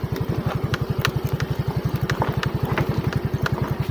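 Motorcycle engine putting along while riding downhill on a trail near a river resort, a steady rapid low pulse close up with occasional clicks and clatter, no talking.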